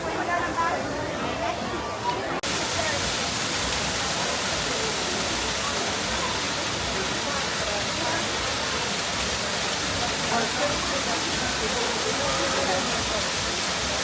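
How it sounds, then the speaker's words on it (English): Steady, full rushing of water falling from a man-made waterfall at EPCOT fills the whole stretch, loud and close, with faint crowd murmur underneath. "The sounds of a waterfall. Even though it's man-made, it's still just beautiful."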